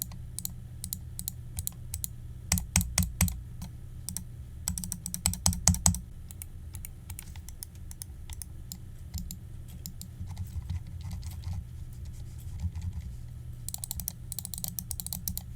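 Rapid bursts of sharp clicking from a 2E Gaming HyperDrive PRO WL wireless mouse, loud main buttons in quick clusters, softer scattered side-button clicks and faint near-silent scroll-wheel ticking between, close and alone without speech.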